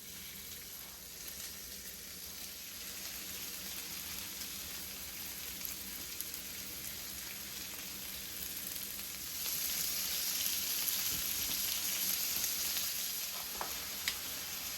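Shrimp sizzling in melted Kerrygold pure Irish butter in a pan, a soft, even crackle that swells a little louder partway through, close and continuous with no talking.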